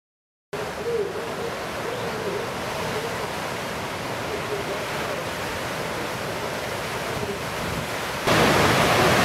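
Ocean waves break at Pipeline on a windy day with backwash and a rising swell. The surf makes a continuous loud roar mixed with wind rumble, and it grows louder near the end.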